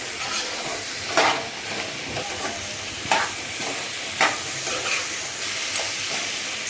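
Goat leg pieces are stirred with masala in a pot, a soft frying sizzle under irregular scraping and clanking spoon strokes, some sharper knocks standing out about once a second.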